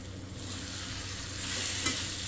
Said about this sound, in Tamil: தக்காளி வதங்கினதும் எடுத்து வச்சுருந்த காலிஃப்ளவரை இதில் சேர்த்துக்கலாம்.